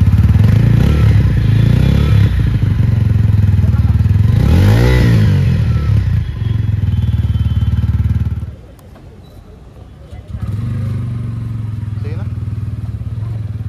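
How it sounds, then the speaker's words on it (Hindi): A TVS Ronin motorcycle's exhaust note rumbles loud and close, with a sharp rev swelling and falling mid-clip, then the engine drops to a quieter idle before settling back into a steady running thrum. "आपको सुनाता हूँ मैं सबसे पहले इसका एग्जॉस्ट नोट"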